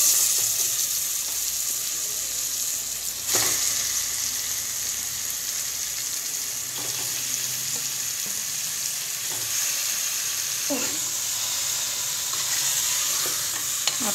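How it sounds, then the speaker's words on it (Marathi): Chicken frying in a pan with onions, a continuous close sizzle broken by a few scraping stirs of the spoon, all without talk. "आता आपण चिकन टाकून घेऊ।"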